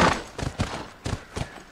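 Repeated hoof clip-clops of a horse in the video game The Last of Us, an uneven trotting rhythm, close and fairly loud, with no talking.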